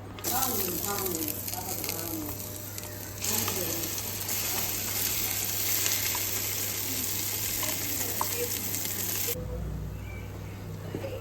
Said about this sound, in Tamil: இப்போது எண்ணெய் சேர்த்ததுக்கப்புறம் நம்ம அந்த அரைச்சி வச்சுருந்தோம்ல அந்த மசாலாவை ஆட் பண்ணிக்கலாம்